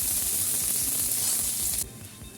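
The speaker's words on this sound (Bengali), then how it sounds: "জিরেটা হয়ে গেছে, পেঁয়াজটা দিয়ে দেবো।" Onion goes into hot oil with cumin in a wok, giving a loud, dense sizzling hiss that drops suddenly to a quieter sizzle near the end.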